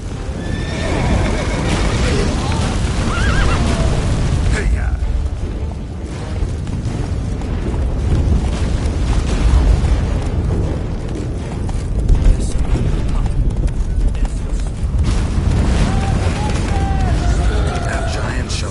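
A horse in The Witcher 3 video game neighs and whinnies, with clip-clopping hooves, amid a dense game soundtrack of rumbling booms and voices talking over the action.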